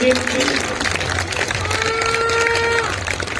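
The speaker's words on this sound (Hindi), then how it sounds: "आपकी तालियां रुकनी नहीं चाहिए।" Audience applause at a Haryanvi stage event, a crowd clapping steadily under background noise and faint music tones, with the clapping continuing through the whole clip.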